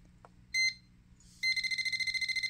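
A handheld metal detector pinpointer sounds its audio alert: a short high-pitched beep, then a rapid run of regularly pulsing electronic beeps, close and clear in a quiet room.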